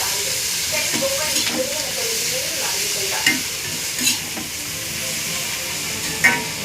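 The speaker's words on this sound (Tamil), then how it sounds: "வெங்காயம் கேரட் எல்லாத்தையும் கொஞ்சம் வதக்கணும்." Chopped onions and carrots sauté in a hot pan with a constant close sizzle, while a spoon stirs them and knocks sharply against the pan three times.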